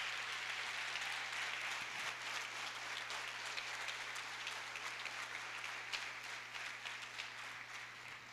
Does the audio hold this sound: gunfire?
no